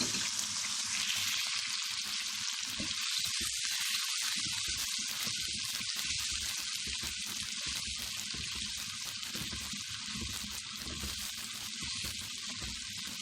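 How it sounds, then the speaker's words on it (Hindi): Onions sizzle steadily in hot oil in a home kitchen, a constant bright crackling fry that holds at an even level throughout with no talking. "तेल हमने पहले से गर्म करने के लिए रख दिया था। अब ये प्याज इसमें डालेंगे।"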